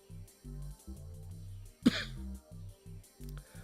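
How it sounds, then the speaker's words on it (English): One sharp cough with a throat-clearing rasp cuts in partway through, loud and close, set against a faint, looping low musical tone. "I'm going to cough a little bit"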